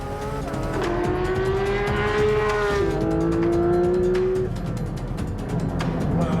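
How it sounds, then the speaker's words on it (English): Cars race past on a road, a Grenadier against a Land Rover and a road-going GT3 RS, with a loud sustained engine drone and rising, shifting revs that swell and fade over several seconds. "By the second checkpoint, the road car, it's starting to lag behind."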